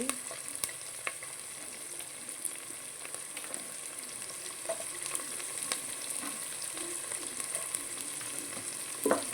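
Capsicum fries in a pan for semiya upma, a soft, continuous sizzle with occasional spatters and light stirring clicks, fairly faint and without any voices.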